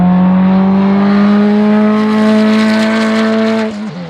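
A turbocharged K24-engined Ferrari 308 time-attack race car on track at Buttonwillow, its engine holding a loud, sustained high-revving drone with a steady pitch that drops away as it fades out at the end.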